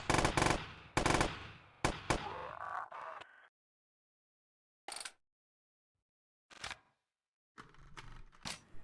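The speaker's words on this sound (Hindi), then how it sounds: "वैसे ये बंदूक बहुत अच्छी है।" A scoped gun in a video game boss fight fires in loud, sharp bursts: rapid volleys at the start, then silent gaps broken by single shots and a final cluster.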